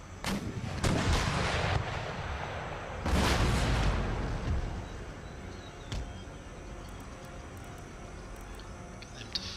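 Troops in the video game Empire Total War fire musket volleys, sharp crackling bursts near the start and again around three seconds, followed by scattered distant shots.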